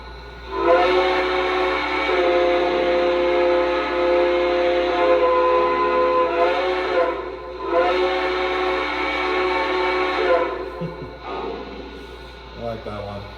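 Several sustained chime-whistle blasts from a Lionel Western Maryland 1309 model steam locomotive, its fifth whistle setting, a lower-toned multi-note chord sounding loud and close with brief pauses between blasts.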